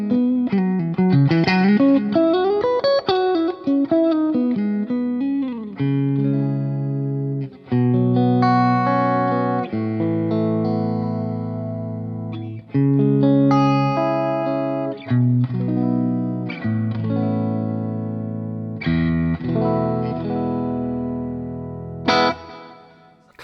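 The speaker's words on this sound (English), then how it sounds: "Classic sort of Fender tones, which the clean channel of the MK2 C Plus is based on" Clean electric guitar through a Mesa Boogie Mark IIC+-style preamp module with its EQ switches out, giving a bright Fender-like tone: a sliding run of notes, then sustained chords, loud and close throughout.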